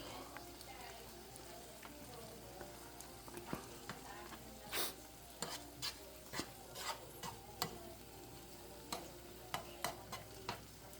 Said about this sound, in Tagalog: Lagay na natin yung sardinas. Bali 2 sardinas ilalagay ko.